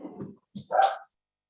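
A dog gives a couple of short, close barks, a brief low yip followed by a louder sharper bark, then silence in an indoor meeting room.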